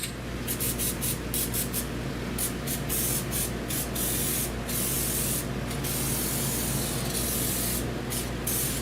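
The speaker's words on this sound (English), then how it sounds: "I'll give that a little bit of spritz." Aerosol cleaner sprayed onto the front brake rotor and pads of a 2012 Dodge Grand Caravan, a series of short hissing bursts of varying length, close and loud, with no talking.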